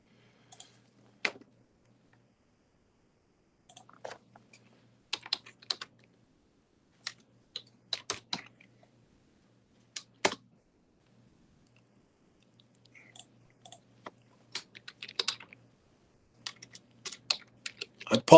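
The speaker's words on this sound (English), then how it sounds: "I apologize for working on my keyboard here" Typing on a computer keyboard during an online class session, with scattered bursts of quick clicking keystrokes and long pauses between them, heard close up with no voices.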